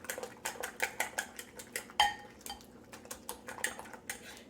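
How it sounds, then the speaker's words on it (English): A spoon stirs egg muffin batter with chopped vegetables and capsicum in a bowl, giving a steady run of soft, rhythmic clinks and scrapes at moderate loudness. "I'm going to give everything a good mix."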